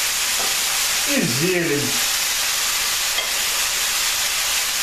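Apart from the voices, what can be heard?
vegetables sizzling in a pan, stewing in tomato sauce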